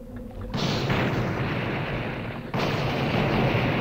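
Explosions in the retro shooter Blood, two heavy booming blasts in quick succession, each swelling into a long loud roar of rumble and debris, with no talk over them.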